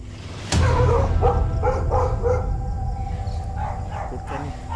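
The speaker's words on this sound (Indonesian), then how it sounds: "ada bunyi anjing" Wild dogs bark and howl repeatedly in the distance outdoors, a loud, sustained chorus with yips layered over a steady background rumble.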